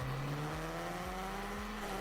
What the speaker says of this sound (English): I raise the revs, look for the lights to go out